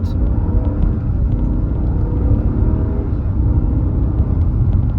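A 2017 Genesis G80 with a 5.0 V8 pulls at about half throttle, its engine a steady, smooth, loud rumble heard from inside the cabin throughout.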